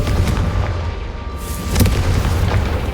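A Confringo spell blast in Hogwarts Legacy on Xbox Series X, a loud booming explosion with a second heavy burst shortly after, over dense rumbling game audio.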